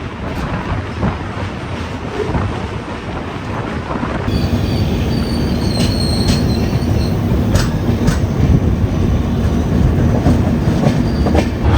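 A Mumbai LTT to Kakinada Port Express train rolls loudly along the rails into Vijayawada Junction, constant rumble with rhythmic clacking and occasional high metallic squeals from the wheels.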